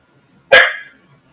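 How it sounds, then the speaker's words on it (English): A single loud, close bark from an indoor dog, one short sharp burst that trails off quickly into silence. "Apologies for the dog."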